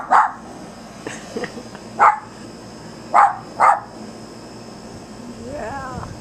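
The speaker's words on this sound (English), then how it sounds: "that dog next door is still barking" A dog next door barks in several short, sharp bursts at moderate distance, separated by pauses, with a faint whimpering whine near the end.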